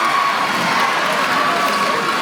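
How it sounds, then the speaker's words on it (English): Two high school student sections cheer loudly at a Southridge versus Grant basketball semifinal, a sustained roar of shouting voices from the stands filling the whole moment without letup. "Both student sections are cheering on their respective teams"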